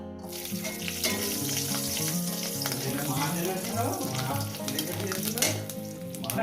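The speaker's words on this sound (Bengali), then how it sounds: "এরপর দিয়ে দেবো একটু রসুন রসুনটা আগে ভেজে নেব" Garlic frying in a little hot oil, a steady sizzle heard under background music that runs throughout.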